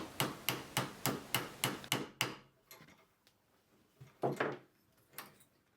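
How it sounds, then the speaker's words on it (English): A rawhide hammer strikes copper folded over a vise in a steady series of sharp, fairly loud blows at an even pace. After a pause, a few more scattered strikes follow. "Using a rawhide hammer, which won't mark the metal as you're hitting it, you can just fold it across"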